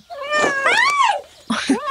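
A cat meows loudly up close, one long drawn-out wail followed by two shorter meows.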